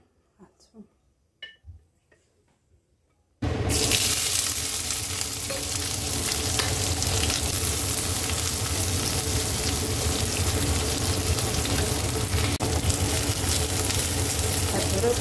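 Finely chopped onion fries in a pan for a chicken meat fry with gravy. A loud, steady sizzle bursts in after a few faint knocks and keeps up without a break.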